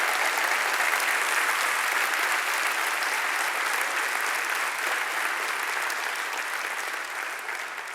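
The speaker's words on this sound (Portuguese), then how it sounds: "Aplauso para Jesus Cristo" A church congregation gives a loud, continuous round of applause for Jesus Christ, a thick even clapping that stays strong and only eases slightly at the very end.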